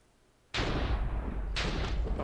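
Two heavy explosions go off from a command block bow in Minecraft, one sharp boom after a quiet start and a second about a second later, each with a loud, rumbling blast that fills the space. Nobody speaks.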